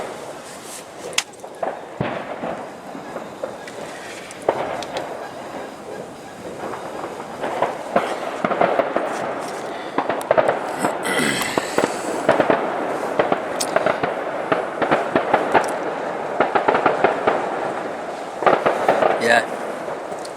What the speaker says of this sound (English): fireworks have been going off for 10 minutes now